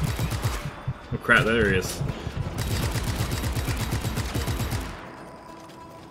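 Rapid heavy-gun fire in the Just Cause video game, a long run of evenly spaced loud shots pounding for several seconds before cutting off, with someone talking over the barrage.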